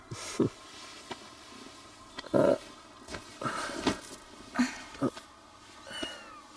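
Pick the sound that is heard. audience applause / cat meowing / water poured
cat meowing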